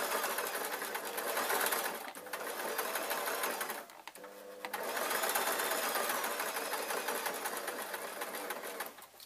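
A sewing machine stitches unicorn soft toy pieces together. It gives a loud, close, fast mechanical chatter in two long runs with a short pause between them.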